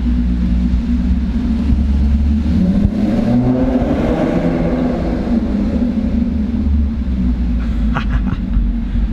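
Maserati GranTurismo engine revving while parked on a Beverly Hills street, a loud, deep, continuous exhaust rumble that swells briefly in the middle before settling back.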